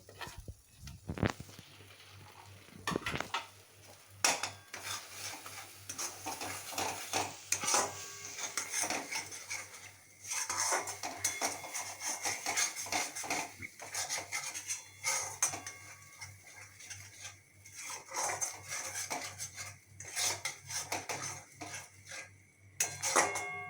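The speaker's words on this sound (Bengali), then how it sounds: "আস্তে আস্তে করে কষাতে হবে যতক্ষণ না এই মশলাটা থেকে তেল বেরিয়ে আসে" Masala of ground coriander and cumin is stirred and fried slowly in a pan for paneer, giving a long stretch of rhythmic scraping and rubbing of a spatula against metal with occasional clinks over a low sizzle.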